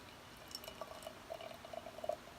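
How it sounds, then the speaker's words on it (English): Hazy Griffin Claw Haze Force beer pours quietly into a glass with soft trickling and small bubbly gurgles, rising slightly toward the end. "Let's go for a pour."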